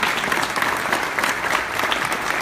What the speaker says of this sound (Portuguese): Palmas para Jesus, irmãos queridos.